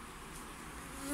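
Honey bees buzz on a hive frame in October, a faint, continuous close-up hum with no other sounds.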